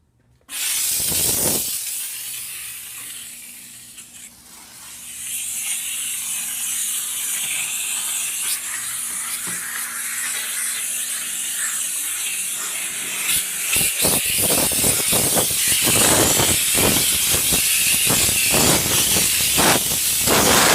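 A Chief Steamer 125 PSI steam cleaner sprays a car in a steady, loud hiss that runs almost throughout, broken by quick clicks and sputtering bursts toward the end, with no talking.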